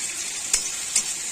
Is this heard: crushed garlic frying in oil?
yes